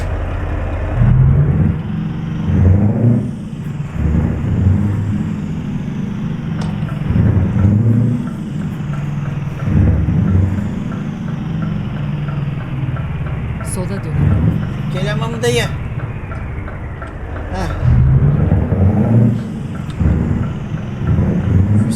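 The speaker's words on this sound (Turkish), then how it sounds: "Acaba V8 motor sesi mi var bunda?" A low, steady Scania R450 truck engine drone in Euro Truck Simulator 2 rises and falls with occasional revving, continuous throughout, with a few brief higher clicks and whines over it.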